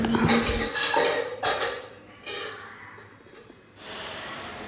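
Pots and dishes are shifted in a kitchen cupboard, with several clanks and metallic scrapes followed by quieter rattling and a breath.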